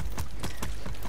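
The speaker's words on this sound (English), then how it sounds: "yeah, that's my horse, motherfucker." A horse's hooves clip-clop in a video game, a quick, even run of hoof beats that stay close and moderately loud, with no one talking.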